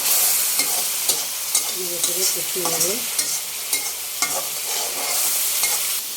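A spice mix is stirred and fried in a pan, with repeated scraping strokes of a utensil over a continuous sizzle, fairly close and loud.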